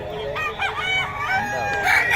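Rooster crowing close by among chickens offered for sale, a couple of overlapping hoarse crows and clucks over a busy background murmur.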